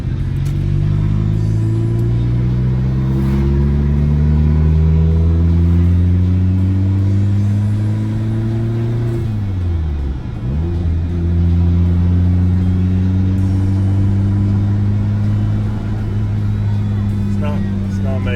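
A Honda Civic turbo build engine with worn rod bearings drives along, its loud steady drone rising in pitch through the gears with a brief dip and recovery midway, while a voice talks over it.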